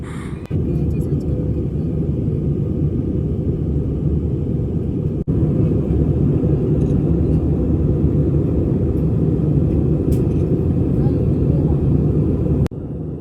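Cabin noise on a passenger airplane climbing after takeoff, a loud, steady low roar and rumble that holds throughout with a brief dip midway and a few faint clicks.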